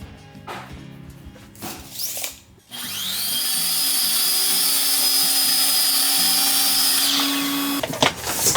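A power drill fastens wallboard panels in a kitchen wall built on a steel structure, with a few close knocks and handling clatter followed by a steady, loud high whir lasting about four seconds, then winding down, with no voices.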